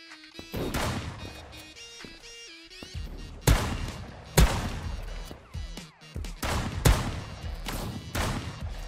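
Shotgun blasts in the first-person shooter Krunker.io during a free-for-all match: several loud, sharp booming shots at irregular intervals over clicks and in-game sound effects.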